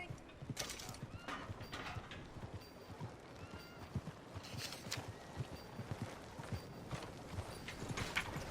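Horse hooves clip-clopping at a steady walking pace in the video game Red Dead Redemption 2, with a continuous rhythmic patter of hoofbeats and faint creaking tack, close and moderately loud.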